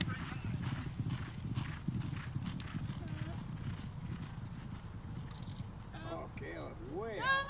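Horse hooves clip-clop steadily during a game, with a neigh near the end, all heard under continuous talk.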